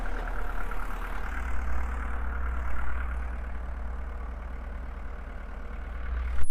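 A Volkswagen 1.9 turbo diesel AAZ engine in a Toyota LandCruiser 40 series idles with a steady low clatter and hum, fairly close and unchanging, ending with a brief louder bump.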